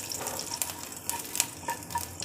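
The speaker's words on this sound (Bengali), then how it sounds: "একটু নাড়িয়ে নেব।" A spoon stirs a tempering of asafoetida, black mustard seeds, chopped green chili and curry leaves in a pan for khaman dhokla, with a soft sizzle under irregular scraping and light metallic clinks.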